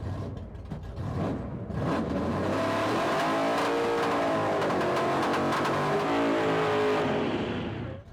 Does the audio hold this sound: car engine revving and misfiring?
yes